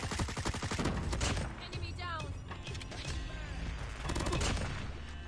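Rapid bursts of gunfire in Call of Duty: Mobile, including the L-CAR 9 pistol, crackle continuously and loudly, with a few shorter pops mixed in.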